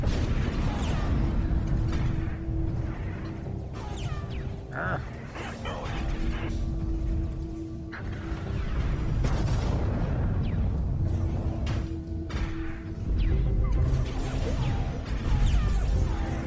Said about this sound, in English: The mothership is under fire.